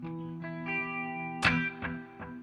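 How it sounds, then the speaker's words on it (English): A guitar picked softly through a delay pedal gives a subtle, chorus-like warble. A few plucked notes ring out with faint repeating echoes and quiet tails, and no one talks. "it's there, but it's almost like a warble, like a chorus."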